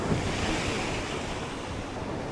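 Ocean waves surge against a deep, beachless stretch of Australian coastline between Adelaide and Perth. The wash roars continuously and loudly, mixed with gusting wind on the microphone, and no one speaks.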